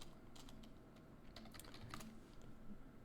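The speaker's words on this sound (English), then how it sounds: "My typing is awful today." Fast typing on a computer keyboard, a quiet run of light key clicks in irregular bursts over a steady low room hum, close and with no voices.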